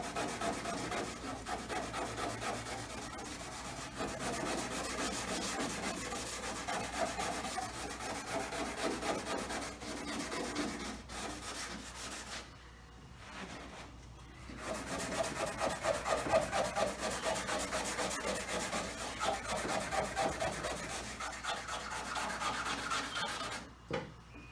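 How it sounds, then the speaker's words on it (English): A microfiber towel rubbed over car paint where the clear coat is peeling, a continuous close scrubbing swish with quick back-and-forth strokes, one short pause midway, then the rubbing resumes. "So I'm going to use this towel now. This is the microfiber towel."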